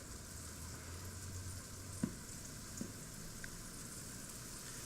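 Flour-coated venison pieces brown in oil in a frying pan, giving a soft, steady sizzle with a couple of faint ticks, heard alone and at low level.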